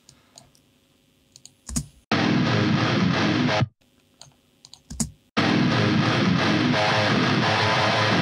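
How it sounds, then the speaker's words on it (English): Electric guitar played through heavy distortion into a cabinet, crunchy and bright, in two loud sustained bursts separated by quiet gaps with a few faint clicks. "using distortion on guitars to sort of make it bigger"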